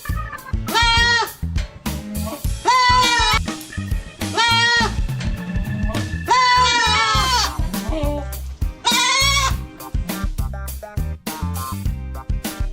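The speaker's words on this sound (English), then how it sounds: "Goat." Goats bleat in a series of wavering, nasal calls, five or so distinct cries spaced out over rhythmic background music.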